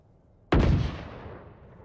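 A single sharp Sheriff pistol gunshot in Valorant cracks loudly and then decays into a fading echo, with no other sound around it.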